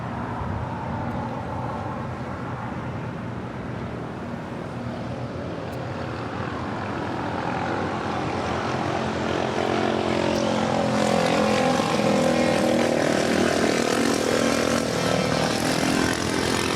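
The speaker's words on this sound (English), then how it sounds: "we just had Lufthansa flight 452 coming in from Munich, the A350-900," Lufthansa Airbus A350-900 arriving from Munich and touching down on runway 25 Left at LAX, a steady broad jet roar that swells and grows louder through the second half as the widebody passes close, with no talk over it.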